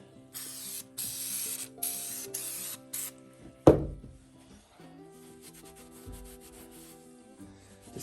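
Rust protectant being rubbed by hand into a restored froe and mallet: several short bursts of brisk rubbing and scrubbing early on, a sharp knock, then quieter intermittent rubbing with soft handling clicks.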